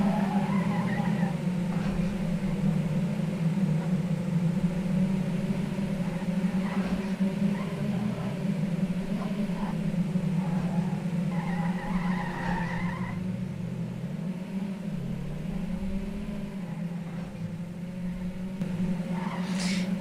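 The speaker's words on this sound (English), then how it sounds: "It looks like we're going to have quite a bit of drifting." Sim racing cars drift through corners in a steady, continuous engine drone, with long tire squeals rising and fading at a moderate distance throughout.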